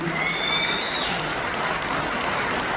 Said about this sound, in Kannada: ಒಂದು ದೊಡ್ಡ ಚಪ್ಪಾಳೆ ಕೊಡಿ